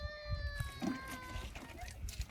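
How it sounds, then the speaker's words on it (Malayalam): A child cries somewhere nearby with a faint, drawn-out wail that fades after a moment, while a person talks over it. "ഒരു കുട്ടീനെ കരച്ചിൽ കേൾക്കുന്നുണ്ടാകും"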